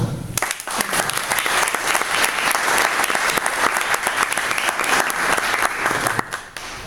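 An audience breaks into loud, sustained applause to welcome a speaker to the stage, dense clapping that holds steady for several seconds and then thins out at the end.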